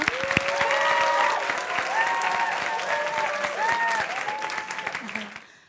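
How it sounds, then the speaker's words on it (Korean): A school audience gives warm applause welcoming the principal, sustained and dense over several seconds and fading at the end, with a tonal melody or chime line running through it. "뜨겁게 박수해 주세요"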